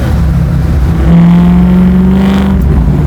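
Supercharged Chevy Camaro pro-touring build engine revving up sharply on a quick throttle blip, a loud, close, steady low mechanical roar that swells and holds before easing back, with no talking.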